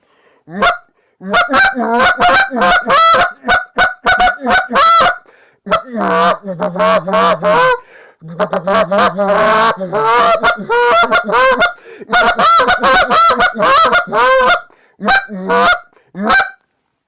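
A Hayes Calls goose call blown in repeated bursts of honking clucks and drawn-out moans, loud and close, with short pauses between runs and no talk over it.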